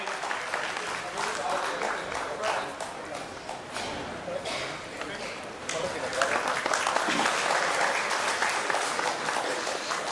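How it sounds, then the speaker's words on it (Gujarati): A satsang gathering audience claps together, a dense, sustained round of applause that carries through and grows slightly louder toward the end, with a voice faintly audible beneath it. "તાળીઓના નાદથી આપણે આ વડીલશ્રી અને પ્રમુખશ્રી આપણી વચ્ચે ઉપસ્થિત છે."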